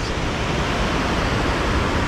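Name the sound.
mountain waterfall in the Adirondacks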